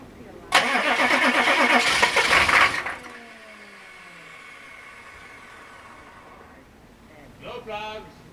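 Close, loud cranking of an engine with the spark plugs removed, a fast rhythmic wheezing churn for a couple of seconds that stops and is followed by a brief second burst, with a voice speaking nearby.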